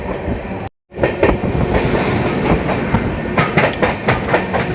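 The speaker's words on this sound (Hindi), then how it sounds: "Rajendra Nagar Durg south Bihar express." A South Bihar Express train, the Rajendra Nagar–Durg service on an electrified line, rolls past close by with loud continuous rumble and repeated clickety-clack of wheels over rail joints, a brief gap near the start.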